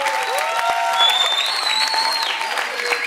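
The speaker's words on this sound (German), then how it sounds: "Ein Applaus für Battaglia." A crowd applauds a dancer at a dance battle, sustained clapping with cheers and whistles rising above it, loud and close.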